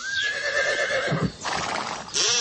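A horse whinnies loudly in a long, high, wavering call that trails off, followed by a short snort and a burst of noise at the end.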